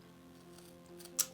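A single sharp snip of scissors cutting chipboard for book corners, brief and close, over a low steady hum.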